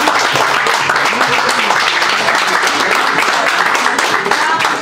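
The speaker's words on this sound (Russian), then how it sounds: "Бурные аплодисменты Елене" Loud, dense applause from an audience at a Butovo karaoke championship qualifying round fills the whole stretch, steady clapping mixed with crowd murmur for a female contestant.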